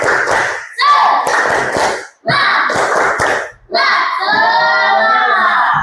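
Schoolchildren in a classroom perform a rhythmic spirit clap, quick bursts of patterned clapping mixed with chanted voices, loud and close, separated by short pauses.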